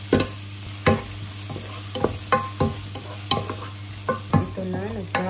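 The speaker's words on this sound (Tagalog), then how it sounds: "Isunod na din natin ang ating sibuyas. Haluin." Onions stirred in a hot pan while frying for a crab and shrimp curry, a steady sizzle broken by regular scraping strokes of the spoon, close and fairly loud, with no talking.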